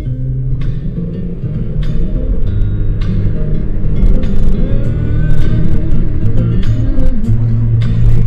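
A car cruises through city blocks, its loud interior engine drone and road rumble steady throughout, with occasional clicks and knocks inside the cabin.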